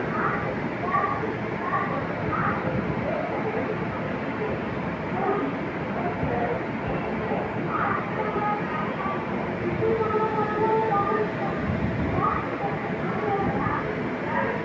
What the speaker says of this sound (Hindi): पुरी स्टेशने देखुन वंदे भारत एक्सप्रेस ढुकछे